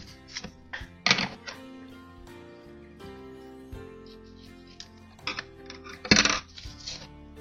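Scissors cut through paper folded in half, giving a few crisp, close snips at irregular intervals, with two stronger bursts standing out over faint clicks and handling noise.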